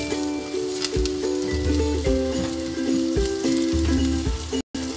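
Chopped onions frying lightly in a pan for a restaurant-style chicken makhni handi, giving a steady close sizzle with faint crackles and some clinking tones from the cookware throughout, with no talking.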